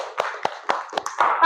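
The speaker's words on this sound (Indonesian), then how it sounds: "Kasih tepuk tangan dulu untuk kelompok 1" Classroom applause for a student group: a handful of separate claps ring out at a moderate pace, then thicken into a brief burst of clapping at the end.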